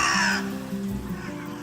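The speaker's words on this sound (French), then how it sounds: "D'un côté, les corneilles noires." Carrion crows cawing, loud harsh calls close by, a strong burst at the start followed by lower rough caws.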